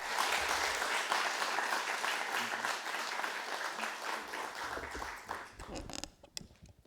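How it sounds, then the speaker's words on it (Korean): Congregation in a church welcoming a guest speaker with warm applause: a broad, sustained wash of many hands clapping, close and full, that thins and dies away near the end. "우리 하나님께 영광의 박수로 모시도록 하겠습니다"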